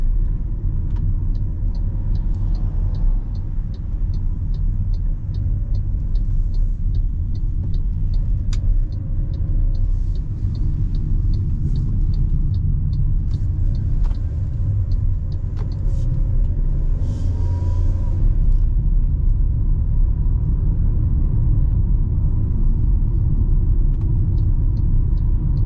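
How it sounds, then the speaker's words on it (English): Low, constant road rumble and tyre roar inside an MG ZS Excite small SUV cruising over rough chip-seal road, loud and steady with faint ticking clicks, no talk. "Now we're back on the rough seal now, so to get a little bit more road noise in the car."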